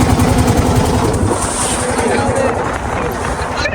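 A large wooden cargo boat used for hauling sand on the Meghna river near a ferry ghat runs its engine with a steady, loud low rumble throughout, mixed with water and wind noise, while voices chatter over it.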